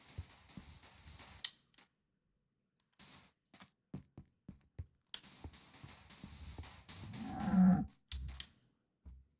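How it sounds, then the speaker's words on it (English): Cows in the video game Minecraft let out a low, eerie moo near the end amid sparse clicks and game sounds, with no talking. "I don't know why they made the cows make that sound."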